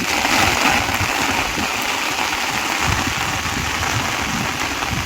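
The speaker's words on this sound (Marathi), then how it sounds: "किती छान वाटतंय भर पावसात ऊन पण दिसतंय" Steady rain pours down throughout, a dense even hiss with scattered splashes, close and fairly loud, no voices.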